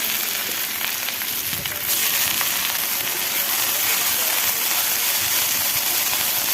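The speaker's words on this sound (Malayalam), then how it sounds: "കഴുകി വെച്ച മുരിങ്ങയില ഇട്ട് കൊടുക്കാം" Washed drumstick leaves go into a hot pan of softened onions and chopped green chillies. A steady hiss grows louder and brighter as they land and then holds as a continuous close sizzle, with no talking.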